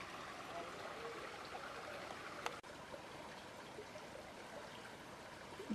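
Clear stream water flowing along a South Carolina backroad, a soft, steady trickle and wash at low level with a brief thump midway.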